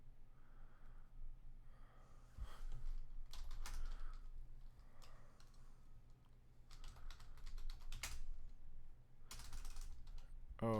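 Typing on a computer keyboard in quiet bursts of rapid clicking, separated by short pauses, with soft breathing and snorts close by and no speech.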